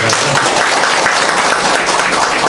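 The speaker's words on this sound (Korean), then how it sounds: "다시 한번 교수님께 큰 박수로 감사의 말씀을" An audience at a party academy economics lecture gives the professor a loud, dense round of applause, a thick unbroken wash of clapping that fills the whole moment.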